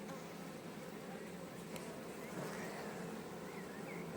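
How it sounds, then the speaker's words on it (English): Honeybees buzz steadily around an open hive frame, a dense, continuous hum with many drones present, close and unbroken for a few seconds without speech. "There are a lot of drones, a lot of male bees here."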